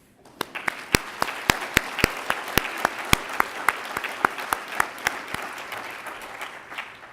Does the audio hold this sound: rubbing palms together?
no